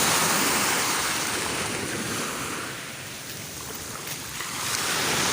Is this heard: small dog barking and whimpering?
no